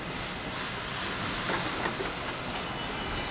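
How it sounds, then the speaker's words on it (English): A road-sweeper vehicle working along a street, a steady broadband whooshing and hissing from its brushes and machinery that stays loud and unbroken throughout, with no voices. "Somebody is sweeping."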